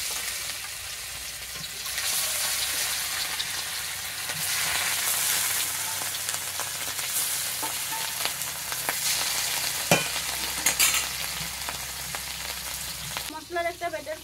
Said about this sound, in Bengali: এবার আমি এই তেলের মধ্যে আমি মাছগুলোকেও ভেজে নেব